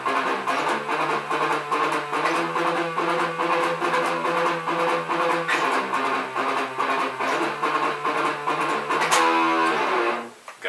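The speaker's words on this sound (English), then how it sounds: "this is the gallop rhythm, right?" Heavily distorted metal electric guitar chugs a fast gallop rhythm, one long note followed by two quick ones in a repeating pattern, loud and dense throughout before the final chord cuts off.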